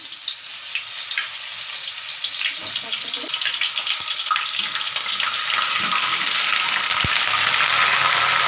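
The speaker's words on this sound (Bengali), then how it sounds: "আমার তেলটা গরম হয়ে গেছে আমি ফুলকপিগুলো দিচ্ছি" Cauliflower pieces hit hot oil in a pan and sizzle in a dense, steady hiss that holds loud and even throughout, with a brief thump near the end.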